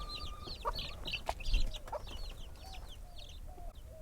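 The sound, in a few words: backyard hens clucking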